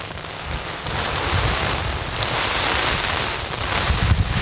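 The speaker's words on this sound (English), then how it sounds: "The rain now thundering down upon us" Heavy rain pours steadily over an outdoor football match, a dense, continuous hiss with some wind buffeting the microphone and no voices.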